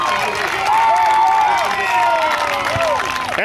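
A crowd at a match cheers and claps loudly, with whistles and rising shouts across the stands, a continuous roar of fans close by.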